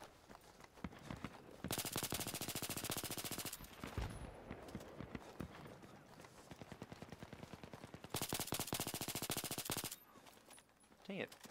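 An AS-VAL rifle fires in the video game Battlefield 3, with two long, rapid automatic bursts separated by quieter stretches of scattered shots and background battle noise.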